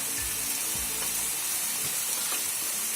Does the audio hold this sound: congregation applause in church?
no